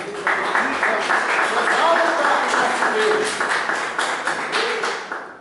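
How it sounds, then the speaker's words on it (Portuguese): A Portuguese-speaking church congregation claps joyfully for Jesus, a lively crowd of hands beating in loose rhythm, fairly close and full, with singing or a voice threaded through before it tapers off at the end. "Dá uma salva de palmas para Jesus, bem alegre"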